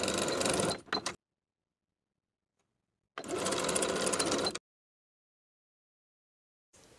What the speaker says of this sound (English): Sew the short edges of the waistband with a 1/2 inch seam allowance